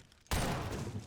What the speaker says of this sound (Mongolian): Раг ноёнлыг буудан хөнөөдөг